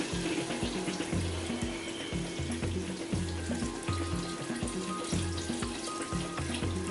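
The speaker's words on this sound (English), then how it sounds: "So at this point, I'm gonna add water," Water pours steadily into a cooking pot of tomatoes for vegetarian sinigang, a continuous close splashing rush that runs unbroken with no talk.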